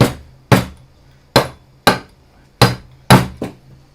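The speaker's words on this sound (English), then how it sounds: "we just need to get a little bit of a hammering action here" Hammering with a makeshift stand-in tool during a workshop HEPA air filter rebuild: six sharp, loud strikes in an uneven rhythm, each with a quick ringing decay and nothing else in between.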